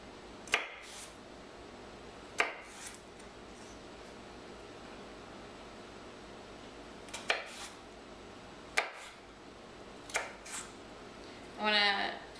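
A knife cutting celery into sticks on a cutting board, sparse sharp chops spaced a few seconds apart, close but quiet, with a brief rustle near the end.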